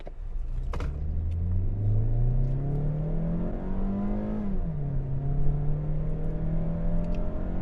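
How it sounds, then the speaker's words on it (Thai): A Mazda CX-30 accelerates from 0 to 100 km/h in D mode, its engine note rising steadily in pitch, dipping at a gear change, then climbing again as a continuous rumble heard from inside, with no talk. "ตอนนี้เราจะมาลองอัตราเร่ง0ถึง100 นะครับในโหมดดีกันนะครับของ CX 3 0"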